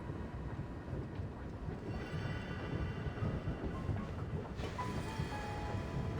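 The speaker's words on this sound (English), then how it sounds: "while this train is doing its thing" A train running in a video game during a Snezhnaya adventure, a steady rumbling roll with faint rhythmic wheel clatter, continuous and moderately loud, with no one talking.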